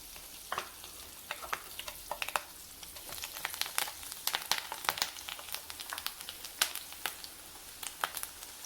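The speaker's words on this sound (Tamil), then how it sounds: "வெங்காயத்தையும் கருவேப்பிலையும் நம்ம அதே எண்ணெயில் பொறிச்சு எடுக்க போகிறோம்" Onion and curry leaves frying in hot oil for pumpkin pakoda, a busy crackle of sizzling pops and spatters throughout, close and fairly loud, with no voices.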